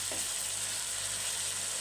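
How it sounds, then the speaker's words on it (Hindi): Chicken frying in a spiced masala in a pan, a steady, even sizzle throughout with no talking. "चिकन को भूनेंगे अच्छी तरह।"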